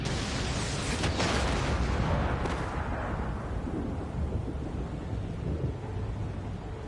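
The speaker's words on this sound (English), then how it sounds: "the heavy thunderstorms and the rain" Heavy thunderstorm with rain in the video game Shadow of the Colossus: a continuous wash of rain and wind with deep rolling thunder rumbles, a couple of sharper cracks early on, fading slightly afterward, no voices.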